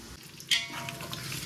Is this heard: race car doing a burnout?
no